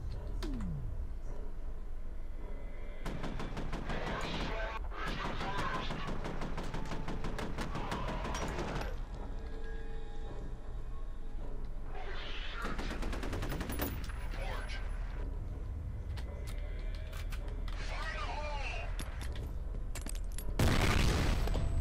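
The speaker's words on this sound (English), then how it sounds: "Maybe I can use the shotgun." Heavy gunfire in the first-person shooter F.E.A.R., with repeated blasts and rapid bursts coming in waves across a long stretch of loud combat, a player's voice occasionally under the din.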